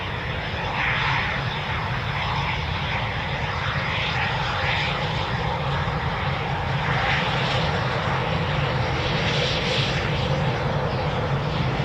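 A Eurofighter Typhoon jet flies at RAF Coningsby in winter, its engine a loud, steady, broad roar that holds without break and without talk.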